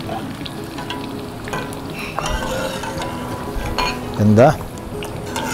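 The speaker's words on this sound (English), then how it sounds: "The pork is cooking here." Pork frying in a pan over a strong flame while being stirred, a loud continuous sizzle with scraping strokes and metal clinks, and a voice speaking briefly over it.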